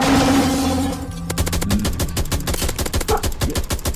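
Rapid video-game gunfire in a Mr. Krabs-themed game, a dense burst of sharp repeated shots ringing out loud and close after a brief lull, continuing steadily to the end.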